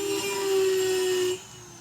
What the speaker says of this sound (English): if we put this grinder on the Dremel